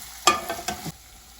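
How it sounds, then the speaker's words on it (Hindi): Potatoes, onions, green chillies and curry leaves frying for Mumbai-style kanda poha are stirred twice with a spatula: two quick scraping strokes over a faint sizzle. "ये आलू और प्याज हम इसमें डाल के इसको अच्छे से हिलाइएगा।"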